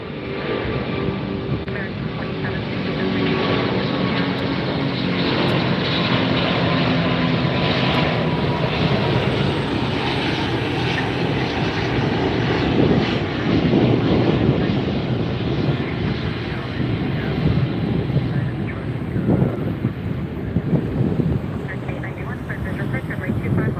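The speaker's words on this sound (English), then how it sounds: "Lufthansa A380. We have liftoff from LAX." Lufthansa Airbus A380 taking off from LAX, heard from a nearby beach as a steady, loud engine roar that builds slightly while a person talks over it.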